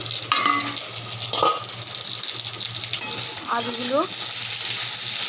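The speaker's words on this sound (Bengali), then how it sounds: "আলুগুলো একটু ভাজা ভাজা করব" Potatoes frying in oil in a pan for a Bengali fish curry, with a steady loud sizzle throughout, occasional stirring scrapes and a brief spoken word.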